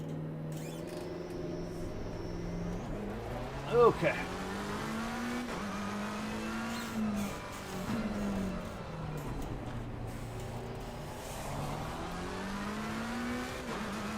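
Race car engine in a racing video game, a steady droning whine that rises and falls with revs and gear shifts throughout, with a short voice near the start and brief radio-style chatter.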